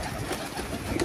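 Pigeons let out of their coop after many days, cooing and fluttering close by in a steady, busy wash of sound with no talking.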